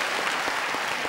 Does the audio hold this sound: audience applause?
yes